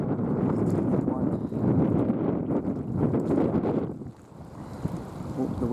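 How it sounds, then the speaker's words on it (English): Gusting wind buffets the microphone outdoors beside a lake, a loud, continuous rumble that swells and eases, dropping off briefly near the end, with faint lapping water in the background. "Oh, the wind."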